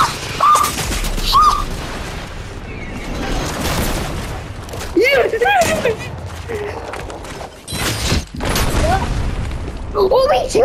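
Rocket launcher shots and explosions in the Fortnite video game, several booming blasts and bursts of gunfire scattered through the stretch, loud and close, mixed with bird-like chirps and game effects.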